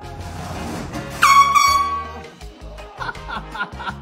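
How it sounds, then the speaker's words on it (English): An office air horn rigged to a door blasts once loudly when the door is pushed open in a prank, a sustained tonal honk lasting under a second amid room noise, followed by shuffling and brief reactions. "every time someone opens that door, the door will slide into the air horn and hopefully scare"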